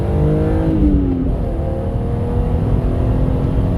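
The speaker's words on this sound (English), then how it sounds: "Give it a little space, second gear, and it loves to be revved, this engine." A BMW Z3 M Coupe's S50 straight-six, five-speed manual, revs hard in second gear, a loud, steady, rising engine note heard from inside while driving.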